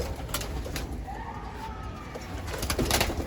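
Pigeons in a loft coo softly nearby, a couple of low, rolling calls over a faint background of shuffling and fluttering.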